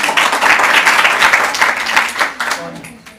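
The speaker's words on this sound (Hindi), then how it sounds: "आप लोग एक बार पुनः इनका तालियां बजाकर हार्दिक अभिनंदन कीजिए।" Studio audience at a Hindi quiz game show applauds a contestant, a dense, steady wash of many hands clapping that carries loudly throughout before tapering slightly at the end.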